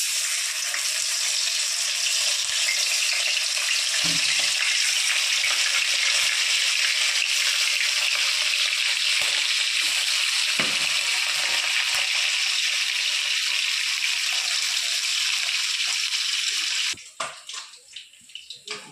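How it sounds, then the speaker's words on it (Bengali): Bhola fish pieces fry in hot oil, a steady, loud, dense sizzle that runs without a break for about seventeen seconds, then drops off sharply into a few scattered crackles. "আমার তেল গরম হয়ে গেছে, এবার এক এক করে মাছগুলো আমি ভেজে নেব।"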